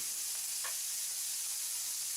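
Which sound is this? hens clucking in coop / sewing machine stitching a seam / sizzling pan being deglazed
sizzling pan being deglazed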